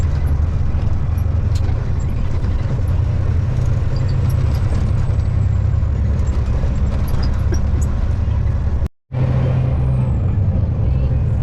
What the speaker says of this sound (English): Now we can speed back up, grab some gears.